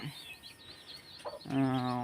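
Faint rustling gives way to a short, loud burst of clucking from a brooding hen close by.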